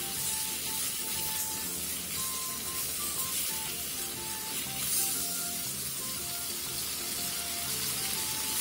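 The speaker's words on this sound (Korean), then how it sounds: "그 다음 양파를 넣고 양념과 어우러질 정도로만 볶아주세요" Onions stir-fried with seasoning in a pan for a Korean soup or stew, giving a steady, even sizzle with soft hiss close by, alone throughout.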